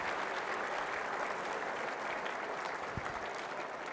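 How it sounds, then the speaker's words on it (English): A room full of people at a coaches' Hall of Fame ceremony during a track and field coaches' convention gives a big, dense round of applause, a steady wash of clapping from a large crowd that holds evenly throughout. "Big round of applause for all of those folks for being in the room."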